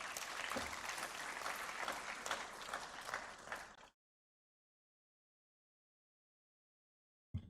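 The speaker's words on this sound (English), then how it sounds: "Let's give him another round of applause." An audience at a campus achievers' day event bursts into loud, dense applause that holds for about four seconds, stops abruptly into silence, and is followed by a brief thump at the very end.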